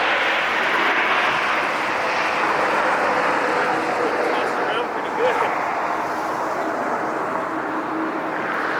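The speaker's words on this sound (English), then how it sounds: "Got a Gulfstream coming, man." A Gulfstream business jet approaching to land at LAX on the north side: a steady, loud broadband roar that holds constant throughout, with indistinct voices nearby.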